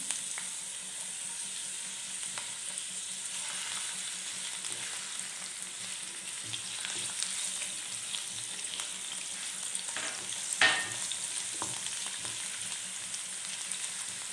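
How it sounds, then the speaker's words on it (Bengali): Chopped garlic fries in hot white and sesame oil, a constant close sizzle and crackle that holds steady throughout, with a few light stirring scrapes and pops. "তেল গরম হয়ে গেছে, এর মধ্যে এবার সবথেকে প্রথমে আমি এই রসুন কুচিগুলো দিয়ে দেব।"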